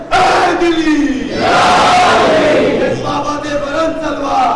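Loud massed voices of a crowd at a Mumbai majlis chant religious slogans together in rising, sustained call-like phrases, several surging shouts filling the hall one after another.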